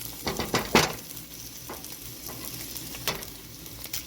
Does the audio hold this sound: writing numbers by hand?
no